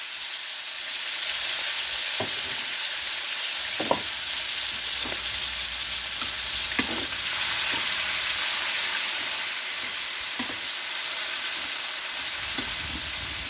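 Onions and peppers sizzling in a hot paella pan alongside chorizo, a steady close frying hiss broken by occasional soft scrapes and clicks from stirring, with no voices.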